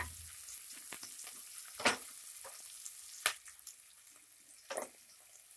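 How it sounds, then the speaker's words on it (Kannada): Onions fry in a pan over a medium flame with a continuous quiet sizzle, broken by three or four sharper scraping stirs spaced a second or so apart. "2 ಇಂದ 3 ನಿಮಿಷ ಫ್ರೈ ಮಾಡ್ಕೊಳ್ಳಿ ಈರುಳ್ಳಿನ"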